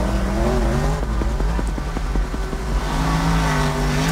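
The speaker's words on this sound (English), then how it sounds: "Drifting around that helicopter is wild." Ken Block's race car drifting, a loud close engine roar with stepped revving through gear changes and a sustained tire squeal, no voices.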